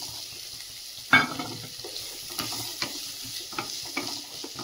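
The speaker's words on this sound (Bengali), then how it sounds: "ক্যাপসিকামটাও দিয়ে দিচ্ছি, দিয়ে হালকা করে সবজিটা ভেজে নেবো" Carrot, onion and capsicum frying in melted butter and oil in a pan, a steady close sizzle with a sharp burst as vegetables drop in, followed by light stirring scrapes.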